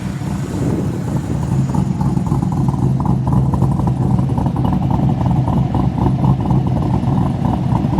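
A car's 5.3 engine idles and revs, a steady rumbling throb with rising surges, close and loud with no talking.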